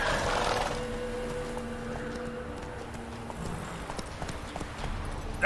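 Horse hooves clip-clop steadily on a path in The Witcher 3, a game mount trotting at a moderate pace with a dull, even beat, close and clear.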